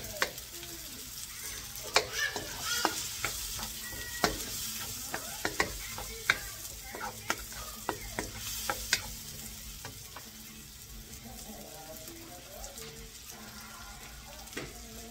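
Onions fry in butter for Kapampangan pork asado, a low steady sizzle broken by frequent clicks and scrapes of stirring, with faint running water in places.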